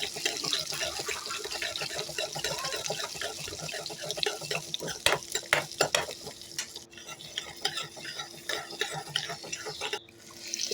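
Small shallots sautéing in a pan for a green tamarind relish, a moderate sizzle broken by clattering stirs and spatula knocks, with no voices.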